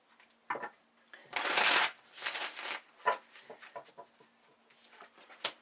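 A deck of tarot cards being shuffled by hand, with brisk riffling bursts and scattered card flicks and taps, close and fairly loud, the longest flurry near the middle, with no talking.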